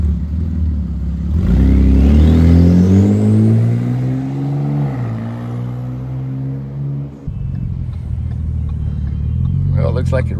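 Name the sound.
turbo of Ford Flex Ecoboost engine in 2013 Taurus SHO driving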